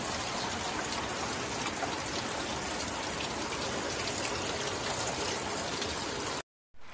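Light rain falls steadily in Bonito, Bahia, a dense, even patter of drops on surfaces that continues unbroken for several seconds before cutting off abruptly.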